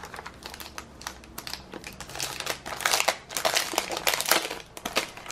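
Plastic wrapping on a letter paper and envelope set with stickers being crinkled and torn open up close, a busy run of rustling, crackling bursts that grows louder toward the end.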